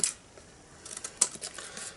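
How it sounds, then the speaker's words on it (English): Scissors trim excess card along the edge of a die-cut poppy card, a few quiet, crisp snips close by, separated by short pauses with no talk. "cut off the excess, any bit that's hanging over the edge, like that."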